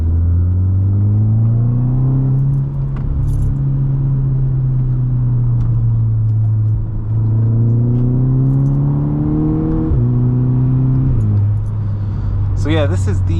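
A 2009 Volkswagen MK6 GTI rated at 263 bhp, heard from inside while driving, a loud low engine drone that rises and drops with gear changes and throttle, under continuous talk.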